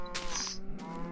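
A cow moos from a mob spawner in the Minecraft video game, one short lowing call heard close and fairly clear over a steady game background hum, with no talking.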